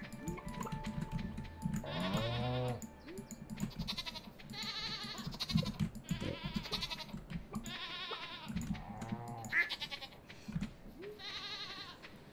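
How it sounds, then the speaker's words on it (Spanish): A goat in the farming game Stardew Valley bleats repeatedly in quavering cries over game background sounds, about five or six bleats spaced a second or two apart, with faint talk in places. "¿Y esta cabra qué hace aquí?"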